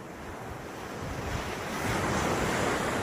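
Ocean surf on the sandy beach of Katchal Island, a steady close roar of breaking waves with wind that builds louder over a few seconds, no voices.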